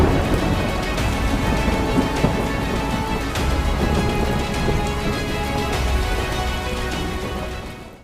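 Heavy monsoon downpour in Sabarkantha, a dense constant hiss of rain pounding surfaces, with low rumbles of thunder rolling underneath throughout.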